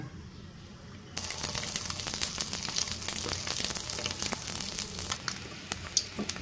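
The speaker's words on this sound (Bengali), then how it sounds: "ডিমগুলোকে হালকা করে ভেজে নেব।" Eggs frying in hot oil, a loud steady sizzle that starts abruptly and continues with crackling spits and pops throughout, close and dominant with no talking.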